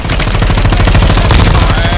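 Rapid automatic gunfire from a video game, a dense, loud burst of continuous shots filling the whole moment without pause, no speech over it.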